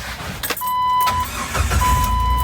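A Jeep 4.0L engine idles and warms up, a steady mid-pitched motor rumble running close and loud throughout, with a brief higher tone partway through.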